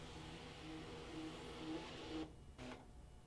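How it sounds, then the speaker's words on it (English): Brother ScanNCut machine scanning a fabric cutting mat, giving a steady mechanical whir with a faint repeating tone that stops abruptly near the end, followed by a short final burst. "So I'm going to scan it in to see what is on the back of my machine"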